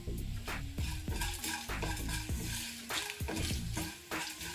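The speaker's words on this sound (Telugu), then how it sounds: "అలాగే ఇందులో ఒక 2 ఎండుమిర్చి కూడా వేసుకొని మంచి దోరగా వేయించుకోవాలి." A spoon scrapes and clinks repeatedly against a pan as dried red chillies roast in a little oil, the stirring strokes coming in an uneven close rhythm over a soft sizzle.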